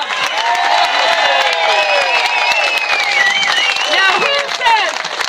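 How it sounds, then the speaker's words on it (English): Rally crowd at an eco tax protest outside an Ottawa MP's office cheers and claps for Debbie and Shirley, steady loud applause with whoops and voices mixed in throughout. "let's give the biggest round of applause for Debbie and Shirley we could ever give"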